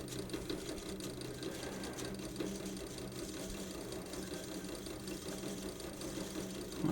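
VEVOR 30 x 1-inch variable speed belt grinder sander with VFD running at a steady speed, a continuous low motor hum and belt whir heard close but quietly, with no speech over it.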